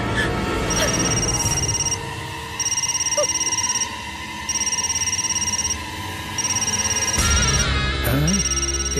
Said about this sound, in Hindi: इसके बेटे का फोन है।